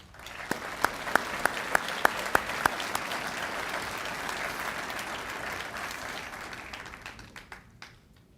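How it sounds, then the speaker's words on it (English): An audience applauds award winners at a Team Up 2017 ceremony, a steady wash of many hands clapping with a few louder individual claps early on, fading toward the end. "Let's give them a round of applause"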